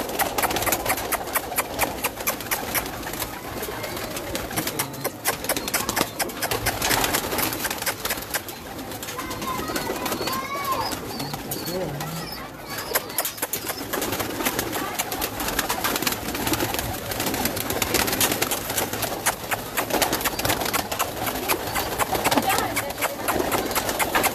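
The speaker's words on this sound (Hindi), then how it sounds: "ये मेरा छत वाला कबूतर है माशाल्लाह" Pigeons kept on a rooftop coo and flutter in a busy loft, a continuous mass of soft calls with rustling wings and clatter, and someone speaks over it at times.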